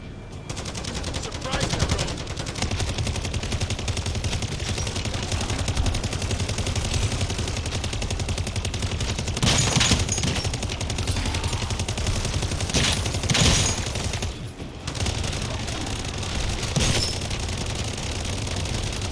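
Sniper fire from rooftops and other gunfire in Modern Warfare Zombies, with sustained rapid bursts and several louder sharp cracks over a constant loud battle din.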